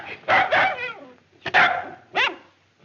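A dog barks in an old Western film scene with Roy Rogers and Gabby Hayes: a few sharp, close barks in quick bursts with short pauses between them.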